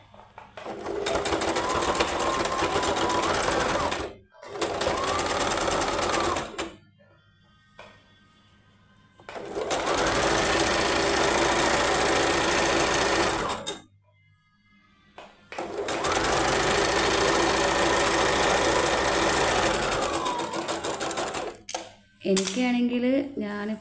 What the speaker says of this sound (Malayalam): ഫുള്ളായിട്ട് ഇതുപോലെ സൈഡിലൊരു സ്റ്റിച്ച് ഇടണം